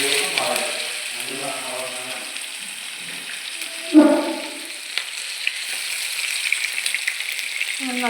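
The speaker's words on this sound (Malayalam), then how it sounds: "അയില പൊരിച്ചുകൊണ്ടിരിക്കുകയാണ്." Masala-coated mackerel fries in a pan with a steady, soft hiss and sizzle, broken by a louder spatter burst midway, while someone speaks over the frying.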